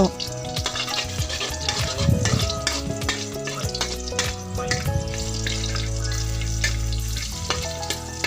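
Shallots stir-fry with mixed vegetables in a pan, crackling and sizzling continuously while tonal background music plays and the spatula clinks now and then.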